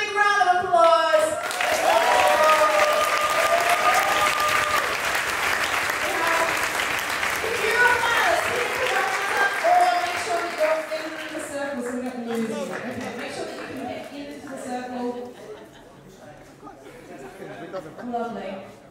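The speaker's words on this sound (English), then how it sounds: "audience, can you give them a big round of applause?" An audience at a social swing dance competition applauds loudly and steadily, with cheering and chatter mixed in, and music plays underneath. The clapping gradually thins out toward the end.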